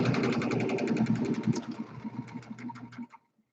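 A sewing machine runs a double seam along a millet-filled pillow, rattling in a fast steady rhythm that slows into separate stitches and then stops, close and alone with no voices.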